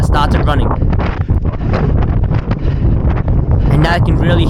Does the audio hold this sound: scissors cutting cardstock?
no